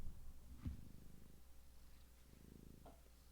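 Soft, close purring of a female cat, a low rhythmic rumble continuing quietly, with a small bump or handling noise near the start.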